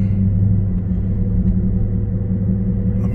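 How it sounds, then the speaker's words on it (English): A Dodge Charger with a 6.4L engine rumbles steadily at half throttle in city exhaust mode, a deep, loud, continuous drone close by. "I'm gonna hit the throttle halfway."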